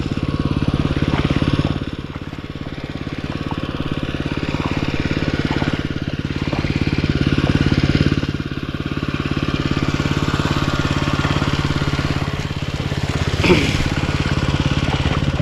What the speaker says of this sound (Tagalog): Okay, pinaandar yung makina natin.